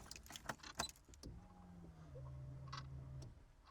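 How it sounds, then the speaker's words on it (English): A car's electric fuel pump primes after the ignition is switched on, giving a faint steady whir of a couple of seconds that follows some handling clatter and key jingles. "Fuel pump."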